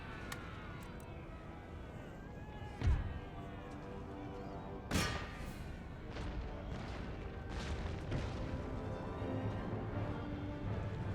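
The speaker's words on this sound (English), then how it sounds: "I'm going to switch my cannons to canister shot." Two deep booms of cannon fire in the video game Empire: Total War ring out amid a continuous rumbling battle din, with scattered sharp cracks of distant gunfire.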